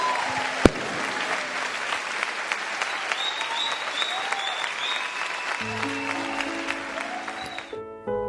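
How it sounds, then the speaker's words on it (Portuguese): Church congregation applauding at a Baptist service, a dense, sustained wash of many hands clapping with a sharp knock early on and tonal music entering near the end. "Aplauda o Senhor."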